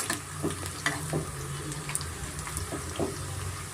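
Dill leaf pakoda frying in oil over a medium flame, a steady bubbling sizzle with occasional pops and stirring clinks, moderately quiet and close, with no one talking.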